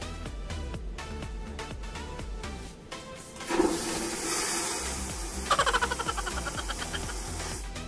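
Airplane lavatory toilet on a Manila to Los Angeles flight flushing with a sudden loud vacuum whoosh that swells and then fades over the steady drone of the cabin.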